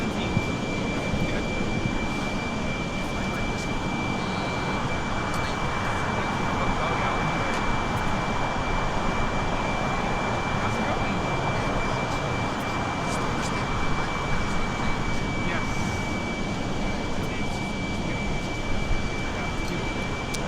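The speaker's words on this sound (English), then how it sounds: "The A380 touching down there on the north side" An Airbus A380 airliner touches down on the north side of an airport, heard as a broad, distant jet roar that holds steady for about twenty seconds with a faint high whine on top.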